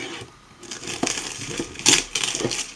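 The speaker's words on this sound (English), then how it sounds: "I'm gonna cut the cellophane open" Sealed cellophane wrap on an eBay-bought Monogram model kit box is cut open, giving a few sharp crinkly crackles and snips in short bursts, close and moderately loud, with one brighter crackle near the end.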